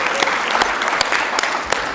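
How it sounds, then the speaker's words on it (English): Audience applause at a medical case-study lecture, dense steady clapping from a crowd filling the room, loud and continuous with no talk over it. "let's give Dr. Kuzner one more round of applause"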